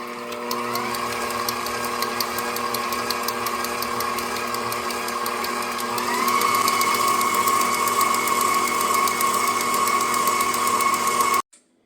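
An electric mixer whirs steadily while beating cream cheese and powdered sugar for a no-bake Oreo pie filling, the motor pitch stepping up midway before it cuts off abruptly.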